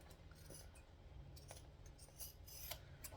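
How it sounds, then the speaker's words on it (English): Fabric shears trim a seam allowance on a sewn bag, giving a few quiet, crisp snips and soft rasping cuts spread over a few seconds, with no voices. "Cutting scissors. Trim down your seam allowance."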